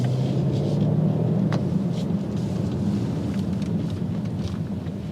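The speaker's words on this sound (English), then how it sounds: "I'm gonna give a little gas and hit the brakes up here" A 2019 BMW Alpina B7 xDrive engine drones steadily inside the cabin with low road rumble, the pitch shifting slightly as it accelerates then brakes, no talking.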